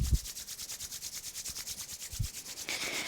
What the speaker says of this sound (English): rub your palms so we're creating some heat